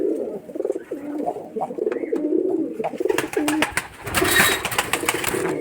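Giribaz pigeons from Rajshahi cooing softly and repeatedly up close, followed by rustling, fluttering and handling noises toward the end.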